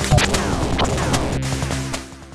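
Video game enemy struck by a shot: a sharp whack followed by a burst of explosion noise, several quick crashing hits over about two seconds with a ringing tail.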